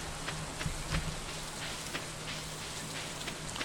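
Steady rain falls on pavement outdoors, a dense constant patter with scattered louder drops close by, with no voices.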